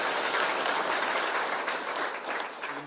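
A crowd at a gathering at GK Mwea Prisons applauds for a newly appointed principal secretary, steady close applause that fades a little toward the end.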